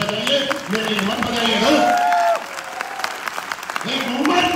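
Audience applause in a hall at a business function, a dense steady wash of clapping that carries on loudly for several seconds, with a voice speaking over parts of it.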